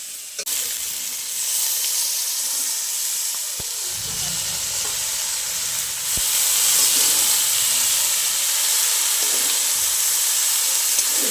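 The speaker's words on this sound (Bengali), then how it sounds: "আমার আলুর সাথে মশলা ভালো কষানো হয়ে গেছে কেটে ধুয়ে রাখা বাঁধাকপিটা এবার দিয়ে দেবো" Cut cabbage is added to potatoes and spices frying in a pan, giving a loud, steady close sizzle and hiss that swells as it goes in, with a few light clicks of stirring.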